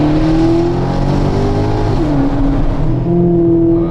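A Maserati GranTurismo Sport engine revs hard up close, its loud, sustained note climbing and dipping briefly through a gear change before pulling strongly again.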